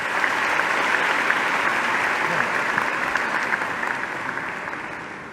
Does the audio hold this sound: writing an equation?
no